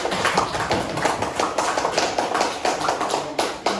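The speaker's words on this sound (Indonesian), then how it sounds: "Sekarang kita beri tepuk tangan untuk tim dari kelompok Gigi" Classroom applause for a student team, a dense patter of many hands clapping close by, steady and lively throughout with no talk over it.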